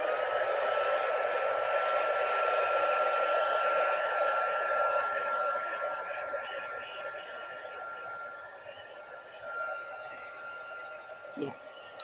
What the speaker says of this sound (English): I'm going to blow it real quick with my heat gun